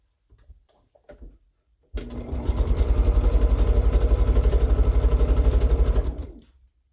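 A sewing machine runs quilt blocks through in one continuous burst of about four seconds, a loud, steady motor hum with rapid needle pulsing that starts abruptly and tapers off, after a few quiet handling sounds.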